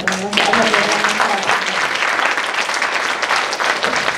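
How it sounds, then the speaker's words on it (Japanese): A room full of people at a lecture applauds with steady clapping, while a voice briefly speaks over the start. "ここで一旦拍手をして"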